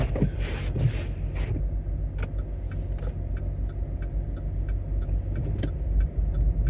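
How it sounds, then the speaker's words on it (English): A car driving along a road in freezing winter weather in Charlottetown, a steady engine and tyre rumble heard from inside with faint ticking clicks over it, fairly close and moderately loud throughout. "That vehicle is really moving up here."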